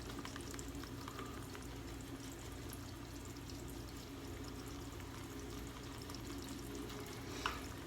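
Shaving soap is worked into a lather in a bowl, giving a faint, continuous wet squelching and fizzing crackle of bubbles close by, with a soft clink near the end.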